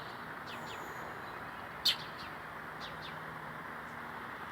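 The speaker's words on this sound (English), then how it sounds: "A bird's attack." A bird calls while attacking a cat outdoors, giving a few faint chirps and one sharp, brief call that stands out over a steady background hum.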